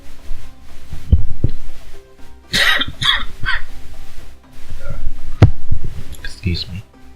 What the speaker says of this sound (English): Hold on, I need a cough.